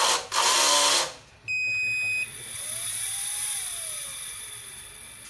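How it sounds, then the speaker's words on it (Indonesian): A 24V 500W pure sine wave inverter switching on, giving a loud burst of noise followed by a shrill high-pitched electronic tone and a steady whine that stays up close and carries on to the end. "Ini saya nyalakan inverternya."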